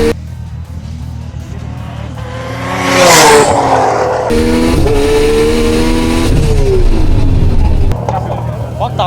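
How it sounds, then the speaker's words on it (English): BMW M3 and Audi RS3 roll racing at a Queensland night event: loud engines rev and accelerate past, with a rising high whine, sustained roar and gear changes, voices over the noise. "Romanos coming up against the BMW M3 for his fourth run of the night"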